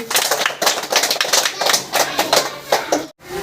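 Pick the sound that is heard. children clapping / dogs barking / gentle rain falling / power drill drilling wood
children clapping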